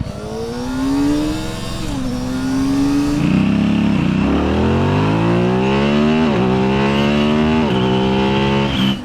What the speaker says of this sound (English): there's something about revving out one of these bikes where you're actually experiencing the power